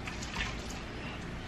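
Water pours onto a potted plant in a steady, close splashing stream at night, a continuous soft gush that stays level throughout with no talk.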